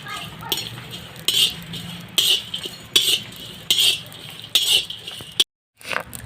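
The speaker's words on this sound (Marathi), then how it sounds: "आता हा आपण गरम मसाला भाजून घेऊया।" Garam masala is dry-roasted in a pan, with a metal spoon scraping and clinking against it in regular strokes about every three-quarters of a second over a faint background. A brief silent gap comes near the end.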